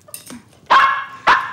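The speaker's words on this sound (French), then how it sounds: "Tu peux pas faire taire ce chien." A dog barks twice in close succession, loud and near, after a few fainter yips at the start.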